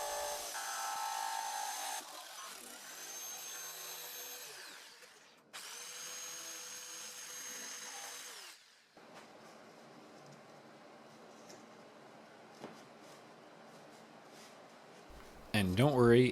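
Power tool notching plywood side pieces for casters on a mobile workbench, two loud sustained whining cuts of a few seconds each, then a quieter stretch of shop noise and a short burst at the end.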